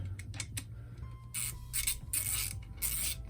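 A ratchet tightening new bolts on a Honda CX500 oil pump, giving several loud, close bursts of rapid clicking separated by brief pauses, over a low background hum.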